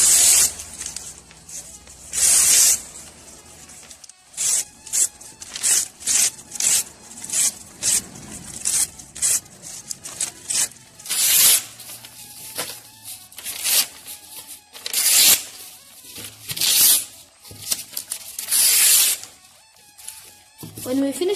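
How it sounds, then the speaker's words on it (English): Scissors repeatedly snip through a stack of paper being cut into pieces for a homemade piñata, giving loud, close, crisp bursts in an irregular rhythm with brief pauses between cuts. "bring the group of papers and begin cutting them into pieces."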